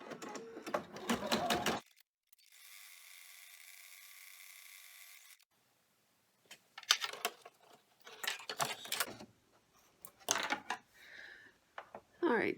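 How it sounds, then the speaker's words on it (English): Embroidery machine stitching a tack-down line on an in-the-hoop heart coaster appliqué in a 4x4 hoop: brief rapid needle chatter, a steady whirring hum, then bursts of clattering stitching with pauses between them. "we have to go run the tack down to hold this in place"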